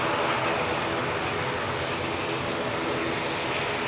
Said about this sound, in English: So, Logan Air's ATR.